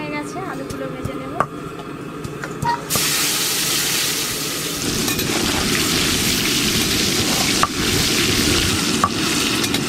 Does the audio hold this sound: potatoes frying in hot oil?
yes